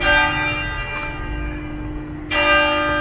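A church bell rings out in the streets of La Rochelle, a single sustained tone with rich ringing overtones, swelling again near the end as another stroke lands over steady outdoor ambience.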